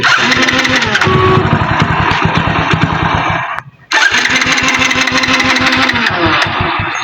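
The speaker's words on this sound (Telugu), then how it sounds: "బండి అయితే స్టార్ట్ అయితే లేదు." A Hero Honda Deluxe motorcycle with its petrol drained, being cranked and trying to start: rapid rhythmic engine chugging, loud and close, with a brief pause midway before the sputtering resumes.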